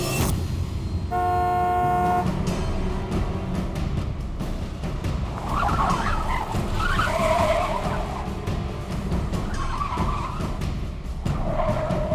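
A car horn honks repeatedly at a tempo truck blocking the road, with a sustained horn blast early on amid loud, constant traffic and engine noise, tires and road roar filling the whole scene.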